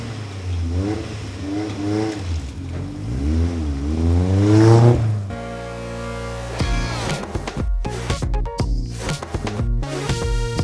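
A Caterham race car engine revs loudly at a driving school, rising and falling in pitch several times, then roars through rapid gear changes with sharp pops and crackles.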